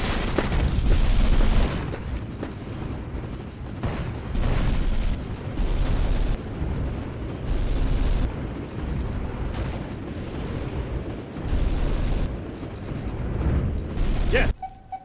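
Repeated heavy explosions and artillery-style booms from firing in the Starship Troopers: Terran Ascendancy game, coming in loud bursts with short gaps over about fifteen seconds, with a brief spoken line in the mix.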